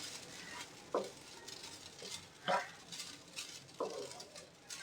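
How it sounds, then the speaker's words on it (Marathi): Grated coconut dry-roasts in a pan over a medium gas flame, a faint low hiss broken by three soft spatula scrapes spaced a second or so apart. "आता हे मीडियम गॅसवर मी भाजते खोबरं, चांगलं लालसर करून घ्यायचं."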